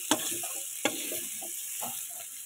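Onion fries in a little oil in a pan with a soft steady sizzle, punctuated by a few sharp utensil taps and stirring scrapes close by, with no talking.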